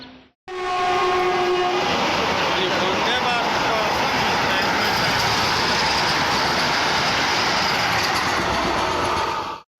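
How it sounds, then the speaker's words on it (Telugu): A Vande Bharat express bound for Visakhapatnam rushes past at close range near Rayagada, Odisha, opening with a horn blast, then a loud sustained roar and wheel rumble of passing carriages that fades abruptly at the end. "వందే భారత్. అది దుర్గి విశాఖపట్నం వందే భారత్."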